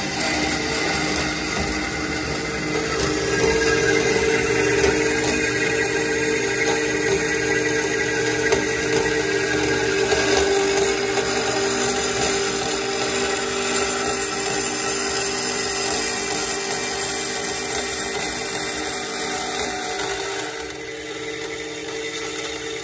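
A Piranha ironworker cuts through metal stock with a steady, loud mechanical whine and grind that runs unbroken for over twenty seconds, with no voices.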